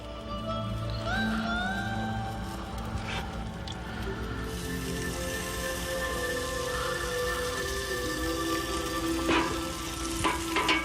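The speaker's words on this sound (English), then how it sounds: "Let's throw on some zucchini sticks on the fire. Just put a little bit of butter on them." Buttered zucchini sticks sizzle over a fire with a dense, steady crackle like rain, loud and close throughout, with a few brief tonal sounds near the start.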